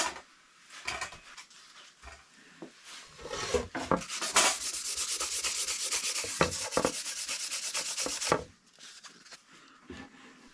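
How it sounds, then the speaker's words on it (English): Hand sanding a turned wooden platter with 600 grit sandpaper to clear pencil marks and light burn marks, a steady rubbing scrape that builds to a continuous loud stretch before stopping, with short scratchy strokes before it and a quiet tail. "that's easily solved with some 600 grit sandpaper"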